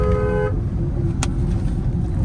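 A car horn sounds one short, bright toot over the low rumble of a moving vehicle on a road trip, and the engine and road noise carry on after it.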